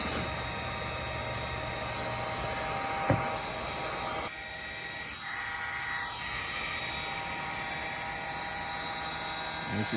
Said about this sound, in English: this is just my old handy Ace Hardware heat gun